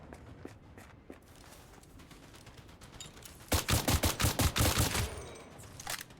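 AK rifle fire in the video game Warpath comes as a rapid burst of about ten loud, evenly spaced shots. A few quieter footsteps and clicks come before it, and a single later shot follows.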